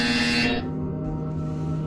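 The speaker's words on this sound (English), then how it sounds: "You will hear a buzzer." A short electronic buzzer sounds in the virtual reality game Portal Stories: VR, a loud harsh tone that holds for about half a second and then cuts off, leaving a low hum behind.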